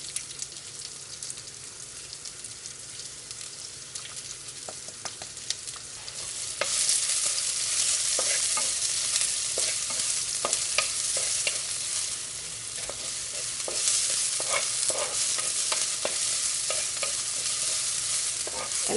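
Chopped onions dropped into a pan over a medium flame, a quiet start that bursts into loud, crackling frying and stays steady, with scattered pops and spatters, no voices.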